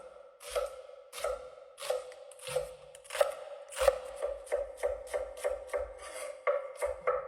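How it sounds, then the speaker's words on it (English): A knife slices through raw shrimp on a cutting board for coconut shrimp, about a dozen crisp close cutting strokes in an uneven rhythm with no talk. "And we slice in the middle over here."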